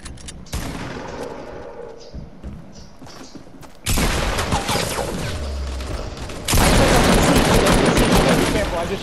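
Fortnite gunfire roars nearly nonstop, with rapid bursts that grow louder and denser in later stretches while voices talk over the shooting.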